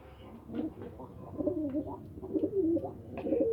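White pigeons coo in a home pigeon loft where a white hen sits on her nest: a continuous run of low, throaty, overlapping coos, close and steady, with no voices.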